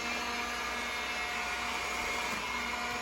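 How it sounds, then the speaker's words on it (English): A steady, loud vacuum suction whir from an iRobot Scooba mopping robot sucking up water runs without a break, a constant motor hum with airy hiss and no voices. "sucks up the water and the grime through the vacuum like you hear now."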